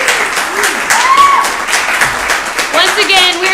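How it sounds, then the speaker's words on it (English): Studio audience applause during a live Comedy Central show, steady clapping and cheering filling the room with whoops and overlapping voices throughout. "Please applaud Amy as she goes back to her seat."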